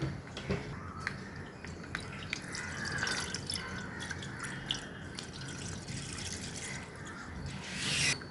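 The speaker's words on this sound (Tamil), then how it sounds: "இன்னொரு பாக்கெட் ஊத்திக்கிறேன்." Milk pours from a packet into a pan, a soft continuous liquid splashing and trickling with scattered drips and light clatter, moderately quiet with no voices.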